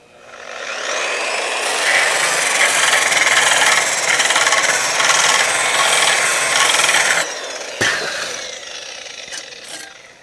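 A Vevor surface conditioning tool running on speed setting one, a loud, steady abrasive whir and rasp against a surface that holds for several seconds, then drops off, followed by a few sharp knocks and a fading spin-down.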